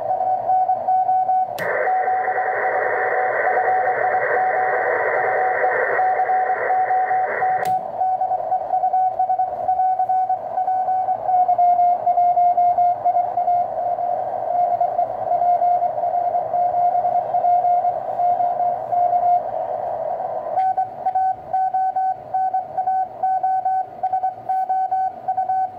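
Morse CW tones on a Kenwood TS-130 transceiver on the 15-metre band with a CW filter, a steady keyed tone sounding throughout, a brighter, noisier passage early on, then a cleaner, narrower tone over faint hiss.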